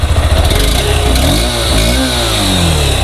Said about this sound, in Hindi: इस पर एग्जॉस्ट सुनाते हैं आपको।